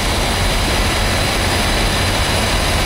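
Natural gas steam boiler idling with 15 pounds of gas pressure feeding a 6-inch line, a loud continuous broadband roar with a deep rumbling base, steady and unbroken throughout.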